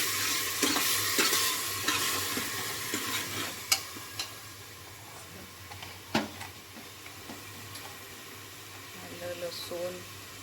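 Mutton masala with garlic paste and chopped coriander being sautéed in a pan, a steady sizzle with scattered clicks of a spoon against the metal, close by, while a person talks over it now and then.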